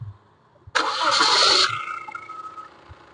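A 2015 Honda Mobilio's engine cranks and catches, a loud burst of starting noise that settles into a steady idle which gradually fades.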